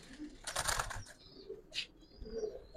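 Old-breed Giribaz pigeons in a loft make a faint burst of wing flapping, then soft low coos and rustles at a modest distance, in an otherwise quiet space.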